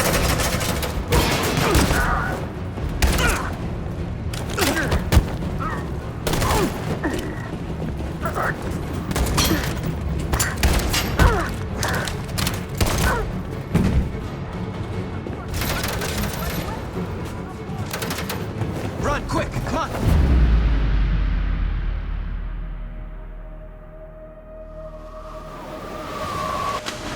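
Heavy gunfire of suppressing fire rattles in the video game Detroit: Become Human, dense bursts and booms over shouted voices, then giving way to a deep rumbling roar and quieter hum.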